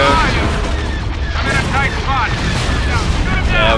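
Space battle in Star Wars: Empire at War, with dense cannon fire and explosions booming continuously under a constant roar, overlaid with frequent game voice chatter.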